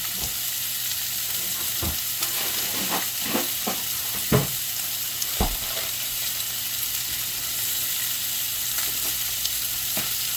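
Pork chops seasoned with garlic salt and pepper frying in a pan, a steady close hiss of sizzling fat broken by a few sharp pops and spatters.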